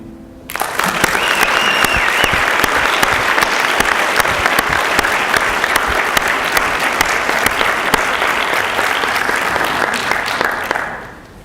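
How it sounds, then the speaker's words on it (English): An audience applauds after a spoken word performance at a diversity forum, with loud, sustained clapping that starts abruptly, holds steady for about ten seconds, then fades out. "Big round of applause, spoken word again"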